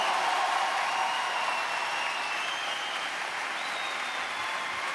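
A comedy show crowd at the Palais des Sports claps in a broad, continuous wash of applause, with a few whistles threading through the steady roar.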